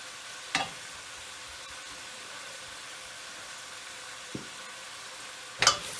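Turkey necks fry in a pot for Jamaican-style brown stew, a faint steady sizzle broken by a few sharp clanks as the pieces are turned.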